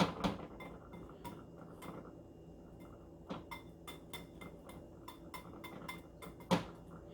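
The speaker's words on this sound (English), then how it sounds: "then I'm going to whisk this in the bowl" A whisk clinks and taps against a bowl in irregular, fairly quiet strokes while batter for vegan buffalo cauliflower bites is mixed, with no talk.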